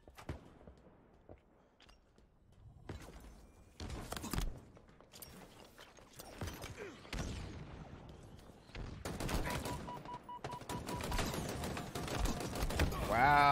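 Halo Infinite gunfire crackles in rapid bursts of automatic shots, near and fairly loud, spread across the clip with footsteps and mechanical game sounds between volleys.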